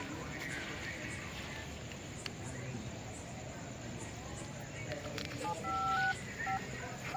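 A telephone number is dialled, giving a short run of distinct keypad tones that step in pitch, close and clear, over a quiet background with a voice speaking nearby.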